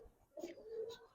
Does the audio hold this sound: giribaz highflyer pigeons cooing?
yes